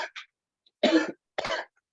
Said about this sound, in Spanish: para que tose con más libertad